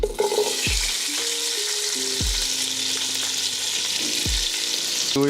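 Onions frying in hot grease in a pan for Southern green beans give a loud, steady, close sizzle. A few low tonal thumps and scrapes come and go beneath it, with no talking.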